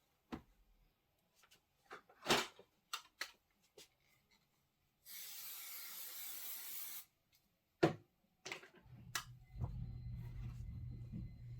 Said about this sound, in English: And I'm making sure I spray the back.